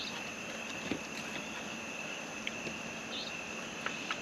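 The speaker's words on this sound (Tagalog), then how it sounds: "Narinig mo lang mga kuliglig. Agos ng tubig. huni ng ibon." Crickets chirp steadily in a quiet mountain setting, a continuous high trill with a few faint clicks and distant sounds.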